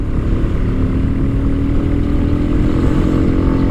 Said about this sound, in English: 1, full throttle.